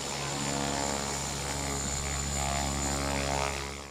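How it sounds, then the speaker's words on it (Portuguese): A fixed-wing aircraft's engine drones loudly and steadily as it takes off at an aviation event in Florianópolis, with no talk. "a tensão que cerca esse momento na aeronave que vai decolar"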